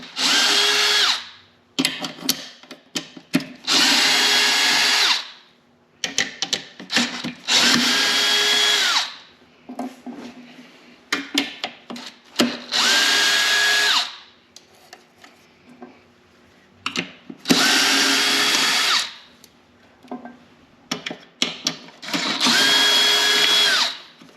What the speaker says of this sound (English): we'll go ahead and take these 10mm bolts out.